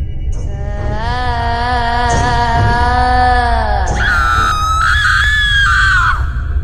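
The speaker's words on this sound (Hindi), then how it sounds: "बुल्ली की चीख सुनकर सारे लोग उठ जाते हैं" A cartoon character screams in fright, a long loud wailing cry with shifting pitch that breaks off and rises into a higher shriek near the end, with no talk over it.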